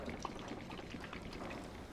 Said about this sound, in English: Hear the water in that mirror.